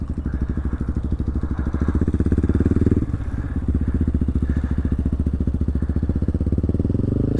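A motorcycle rolls slowly with the clutch pulled in during basic riding-skills practice, its engine chugging loudly and steadily up close with a dip in the middle.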